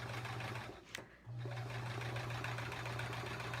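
A sewing machine stitches steadily while tacking down a quilt edge for free motion quilting, a close, continuous motor hum with one brief pause before the whirring resumes.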